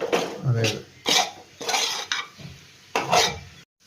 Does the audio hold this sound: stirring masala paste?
yes